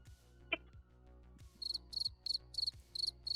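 Crickets chirp in a steady run of quick pulsed trills, close and clear, repeating roughly every third of a second, over a faint low rhythmic background hum and a couple of soft clicks.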